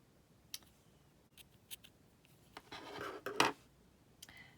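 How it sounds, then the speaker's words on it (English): Scissors snip open a strand of chain-spun Rockabilly yarn, a few sharp, close clicks spaced apart, then a short rasping cut and more snips, quiet and without talk. "I'm going to go ahead and cut this yarn open."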